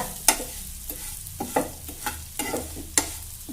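Dry vermicelli roasting in ghee in a pan and stirred for a sago kheer, with a soft continuous sizzle under repeated scraping, clattering strokes of the spoon at an irregular rhythm, close up.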